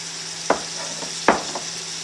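Onions and sausage frying in a pan with crawfish, a soft continuous sizzle broken by two sharp scraping stirs of a utensil against the pan.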